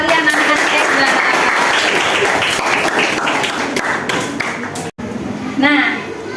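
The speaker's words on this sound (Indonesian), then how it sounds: "Berikan tepuk tangan dulu kalian anak-anak teks ulasan" Students in a classroom clap together in a loud, dense burst that lasts several seconds, then stops abruptly. A few scattered claps and taps follow the main burst.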